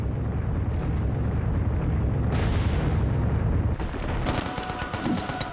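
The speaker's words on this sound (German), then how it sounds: "Die Druckwellen der Explosion sind teilweise so stark, dass sie sogar Fahrzeuge umwerfen." Explosions in the PlayStation 2 game Mercenaries, a sustained roaring rumble of blasts and crackling debris, loud and continuous, with a sharper burst midway and a rattling, metallic tail near the end.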